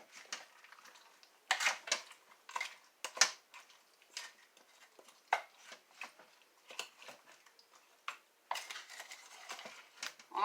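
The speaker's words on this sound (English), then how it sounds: "And give it a quick stir." Spoon stirring beef stew with frozen mixed vegetables in a crockpot, with soft scraping and clinking strokes in an irregular rhythm, close but faint.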